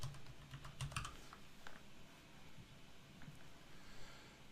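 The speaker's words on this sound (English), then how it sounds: "in the last box, we want to click and type in unpaid" Fingers tap out a short burst of keystrokes on a computer keyboard during a spreadsheet data-entry task, crisp clicks clustered near the start and then scattered lightly over a low room hum.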